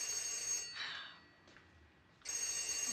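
A telephone bell rings in short bursts indoors, loud and shrill, with a pause between rings and no talking over it.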